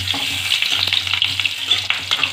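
Potatoes for dum aloo fry in hot oil while being gently stirred, a loud continuous sizzle with scraping stir strokes and a low hum beneath, close up and without talk.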